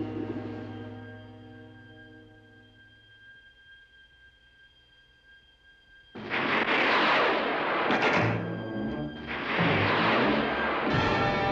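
Film sound effect of meteors exploding on the moon's surface and rocks falling: a low rumble fades into near silence, then two loud, sustained bursts of crashing debris follow, close and alone without voices.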